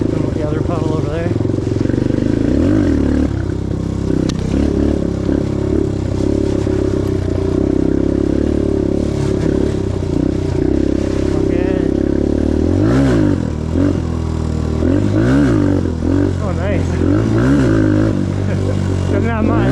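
A 2022 Suzuki DRZ125L motorcycle ridden along a wet, rutted trail, its small engine droning steadily and rising and falling with throttle, close and loud, with a rider's voice talking over it.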